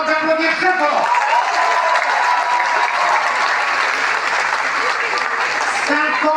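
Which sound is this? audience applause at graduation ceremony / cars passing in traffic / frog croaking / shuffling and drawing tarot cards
audience applause at graduation ceremony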